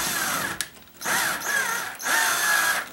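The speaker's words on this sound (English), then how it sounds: "I'm gonna take a longer screw, see if I hit that plywood like I think there is in the wall." Power drill driving a long screw into a stucco wall, three loud whirring bursts, the first short, then two longer ones separated by brief pauses, close and alone.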